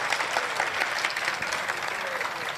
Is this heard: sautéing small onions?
no